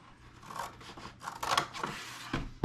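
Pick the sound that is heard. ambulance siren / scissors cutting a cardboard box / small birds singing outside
scissors cutting a cardboard box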